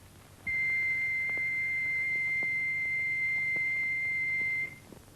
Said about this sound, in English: Turning the wheel produces a continuous note.